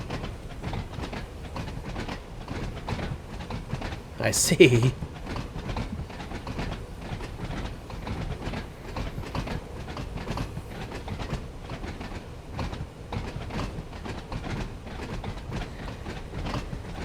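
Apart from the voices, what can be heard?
train running at night in the video game Train Sim World 5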